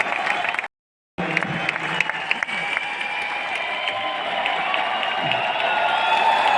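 Audience applause fills a hall at an anniversary function, sustained clapping from a crowd with a brief cut near the start and light cheering under it.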